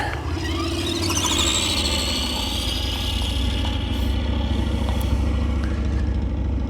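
A motorcycle engine roars steadily and loudly up close, a continuous buzzing drone with a rising whine early on.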